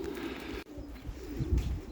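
Pigeons cooing softly in a low, rolling murmur, with faint outdoor background noise and a brief pause midway.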